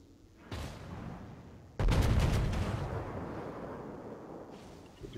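Heavy turret guns of the warship ARP Kirishima firing at the cruiser Karlsruhe in a naval video game: a single booming shot, then a louder, longer salvo with deep rolling rumble that slowly decays, no voices.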